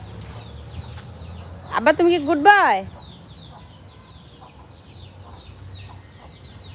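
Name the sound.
chickens clucking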